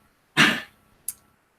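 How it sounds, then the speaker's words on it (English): A small dog gives a short, raspy cough, a harsh burst followed by a brief second hack, close by in a quiet room. "Little dog's got a cough there."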